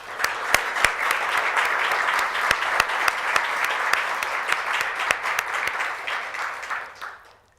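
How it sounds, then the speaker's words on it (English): Audience applause at an annual meeting of a research advocacy organization, dense steady clapping from a large room with crisp individual claps poking through, fading out at the end. "I thank you all and hope you will join me in applauding them"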